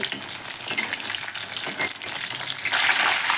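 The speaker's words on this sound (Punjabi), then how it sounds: "ਹਲਕੇ ਹਲਕੇ ਆਪਾਂ ਫਰਾਈ ਕਰਾਂਗੇ" Mushrooms sizzle steadily in a hot pan, a dense crackling hiss with occasional stirring scrapes that grows louder and brighter toward the end.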